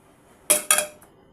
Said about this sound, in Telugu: ఇప్పుడు దీన్నంతా ఒకసారి బాగా కలబెట్టేసుకోండి